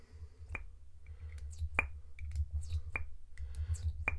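Sharp, isolated pops from the cylinder of a Mamod SR1a steamroller model steam engine, four distinct cracks spaced about a second apart over a faint low rumble, close but quiet.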